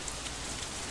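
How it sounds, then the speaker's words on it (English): Rain falling in Katawa Shoujo, a soft, even patter of drops on a surface, faint and continuous with a few slightly brighter splashes. "Instead, the rain seems to increase."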